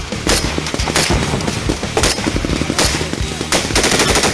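Heavy machine gun fire during a close-range ambush in Charkh District, eastern Afghanistan, loud sustained bursts with sharp repeated cracks and brief pauses between strings of shots.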